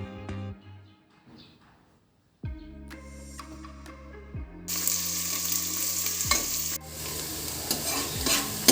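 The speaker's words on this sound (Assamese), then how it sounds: "তেজপাত আৰু জিৰাখিনি আমাৰ ফ্ৰাই হৈ গৈছে। ইয়াতে দি দিম এতিয়া সৰুকৈ কাটি থোৱা পিঁয়াজখিনি।" Chopped onions dropped into hot oil with fried bay leaf and cumin, a sudden loud sizzle that swells into a steady close frying hiss with stirring, following a quieter start.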